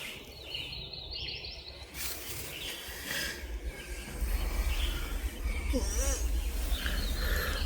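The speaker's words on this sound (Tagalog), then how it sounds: "Dumami yung ibon." Morning birdsong at a campsite near Burney Falls: scattered chirps and calls, fairly faint, over a low steady outdoor rumble with occasional rustling.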